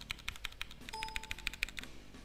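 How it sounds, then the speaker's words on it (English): Typing on a Black Hornet MKA-3 mechanical gaming keyboard fitted with brown Cherry MX tactile switches: a quick run of crisp, close keystroke clicks at a steady rhythm, with a faint tonal whine from a window partway through. "This gaming keyboard in particular contains brown MX Cherry switches, which are kind of a cross between the blues and the reds."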